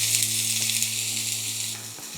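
Two small diced onions brown in a hot pan, giving a steady, close, continuous sizzle that runs unbroken and alone throughout.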